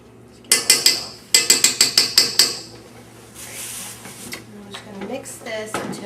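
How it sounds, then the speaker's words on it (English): Pastry filling is mixed in a bowl: a quick burst of sharp rhythmic clacks from a utensil hitting the bowl, then softer scraping and stirring sounds, close by. "mix this until it's all combined"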